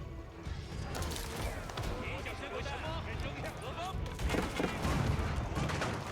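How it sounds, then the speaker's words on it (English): Royal Cannons in Age of Empires 4 firing a counter barrage, heavy booms and crashing impacts amid the busy clatter of battle, heard under continuous commentary. "Royal Cannons trying to counter barrage."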